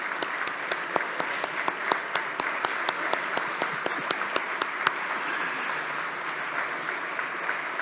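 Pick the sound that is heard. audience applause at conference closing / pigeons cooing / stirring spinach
audience applause at conference closing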